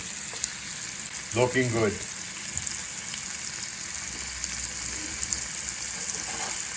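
Lobster frying in butter in a pan gives off a steady close sizzle, with a short burst of talk early on.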